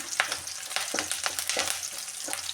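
Onion, garlic and curry leaves fry in hot oil for a radish sambar, giving a close, steady sizzle broken by repeated scraping stirs of a spoon in the pan.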